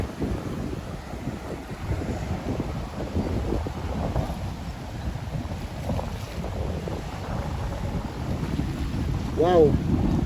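Strong monsoon wind roars against the microphone as heavy waves surge and crash along the shore, a loud, continuous rumbling wash with gusting buffets throughout.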